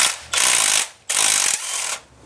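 A ratchet wrench loosening the 9/16 bottom water pump bolt on a bone-stock 1996 Chevrolet Impala SS engine: two loud, close bursts of fast ratcheting clicks separated by a short pause, with no talking.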